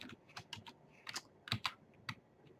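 Quiet typing on a computer keyboard while entering a file extension in Excel VBA code, a handful of separate key taps with brief pauses between them, nearby and soft.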